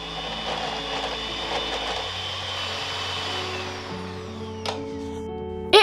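An electric mixer beats room-temperature butter with powdered sugar for a cake filling cream, a steady close whirring drone with pitch shifts as the speed changes, ending in a brief louder clatter.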